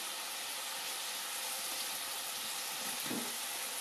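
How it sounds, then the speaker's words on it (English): Finely chopped garlic frying on high heat makes a dense, continuous sizzle, close and even, with a slight swell near the end as it is stirred. "1 large garlic chopped fine, and she fries it first"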